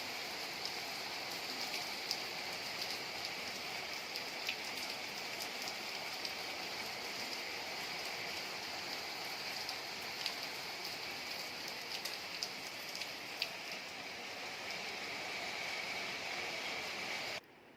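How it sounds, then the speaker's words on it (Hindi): Steady rain pattering down on surfaces, a dense continuous hiss with occasional louder drips, constant throughout and no voices. "बारिश तो बिल्कुल थोड़ी सी आई थी, मतलब 6-7 मिनट की बारिश आई होगी"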